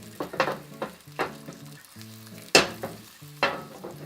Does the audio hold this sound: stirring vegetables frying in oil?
yes